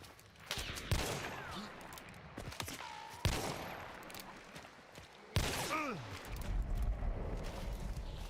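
Three sharp, loud gunshots from a Hunt: Showdown match, spaced a couple of seconds apart with ringing tails and ambient rustle between, as a person talks over the action.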